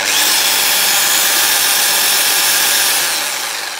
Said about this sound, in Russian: Значит, у нас сейчас стоит режим удар со сверлением.